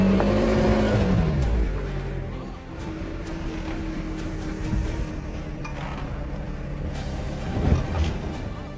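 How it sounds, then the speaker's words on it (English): A smaller Hongqi SUV strains up a steep off-road slope, its engine revving unevenly as the wheels spin and slip, with a sustained mid-level drone and occasional surges. "with a smaller Hongqi SUV tackling the slope, every wheel spin and slip feels amplified"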